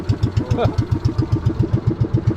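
A small fishing boat's motor runs close by, a steady fast chugging pulse with a mechanical rattle, loud and continuous with no talk over it.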